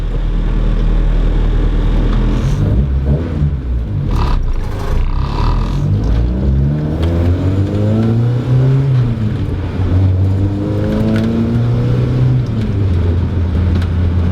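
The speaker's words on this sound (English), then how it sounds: "Hopefully my mic can capture the suction sound." A hatchback car engine idles low, then revs repeatedly, rising and falling in pitch with a breathy intake suction whoosh, recorded close up.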